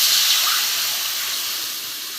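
Boiled split black lentils (biuli dal) pour into a hot pan of spiced oil, giving a loud, steady hissing sizzle up close that eases slightly over a couple of seconds.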